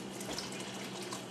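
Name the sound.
boiling water emptied out of hot sauce jars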